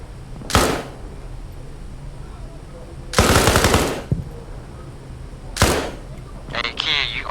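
Light machine gun bursts in a video game, three separate loud volleys of several seconds each, with quieter gunfire and clatter in between, and talking heard over it.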